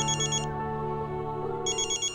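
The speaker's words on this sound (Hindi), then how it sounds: "भाई बहनी का फोन है।" A mobile phone ringtone for an incoming call chimes in a bright repeating pattern, stops briefly, then starts again, playing loud and close against a steady tonal background.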